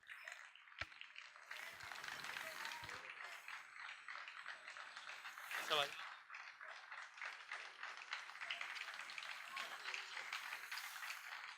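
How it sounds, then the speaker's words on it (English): A round of applause fills the hall at a chamber of commerce night event, steady rattling clapping from a sizeable audience that runs for several seconds, peaks briefly midway, then keeps going at a moderate, somewhat distant level. "let us all hear a round of applause for the team here"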